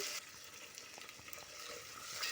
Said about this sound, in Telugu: ఒక గుప్పెడు కరివేపాకు వేసి వేయించండి బాగా దోరగా వేగాలి